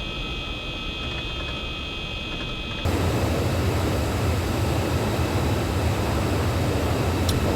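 A steady broadband aircraft engine roar in the IL-2 Korea flight game during a gear-up emergency belly landing, starting moderate and then jumping louder and rougher partway through, continuous with no speech.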